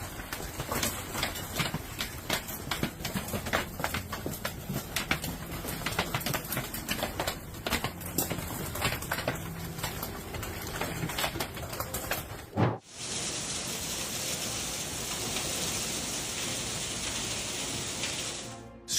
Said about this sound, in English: Strong hail poured down into the backyard